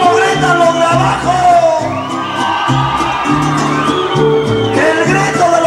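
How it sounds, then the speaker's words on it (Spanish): A concert crowd shouts and whoops loudly and continuously, with cheering swelling in waves over a busy, dense backdrop of voices. "¡Cómo gritan los de abajo!"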